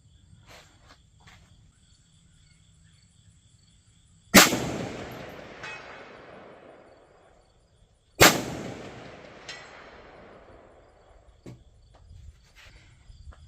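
Two sharp rifle shots fired at a target 300 yards away, shooting through a Firefield Rapidstrike 5-20x50 scope, each a loud crack about four seconds apart with a long rolling echo that fades into quiet outdoor ambience.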